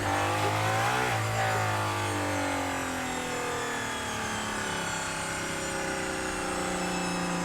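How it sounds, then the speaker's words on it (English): Aston Martin Valkyrie V12 engine roaring loud and close, a sustained high-pitched wail with a brief rev surge early on, then a steady, slowly falling drone with no talking. "That V12 is making that much noise."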